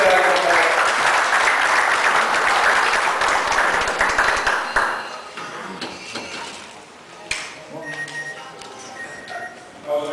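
At a Pakistan Day celebration, an audience gives loud applause to welcome a speaker; the clapping fills the first half, then cuts off abruptly, leaving quieter room noise with a few sharp knocks and clatters.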